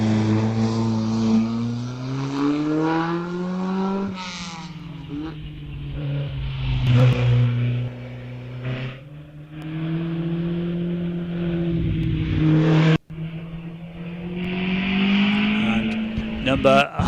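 A 1948 Cooper Mark IV race car climbs a hillclimb course, its engine note rising and falling through gear changes, loud and close, while a commentator talks over it.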